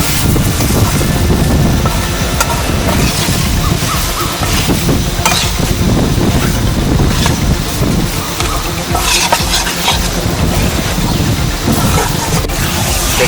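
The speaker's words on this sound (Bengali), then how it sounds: "কিছুক্ষণ ভালো করে এটাকে নেড়ে কষিয়ে নেবো" Chana masala is stirred and sautéed in a pan, giving a loud, dense, continuous sizzle and scraping that fills the whole stretch without any voices.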